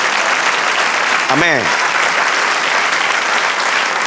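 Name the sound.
congregation applause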